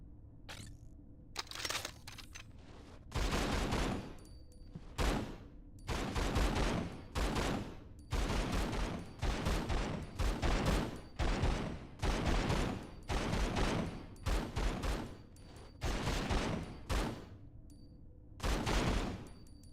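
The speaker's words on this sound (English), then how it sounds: "Just point, pull the trigger, and watch the target fall." Repeated bursts of gunfire from a low-recoil weapon in the PS2 horror game Run Like Hell, about a dozen loud volleys spaced a second or two apart over a steady low background hum.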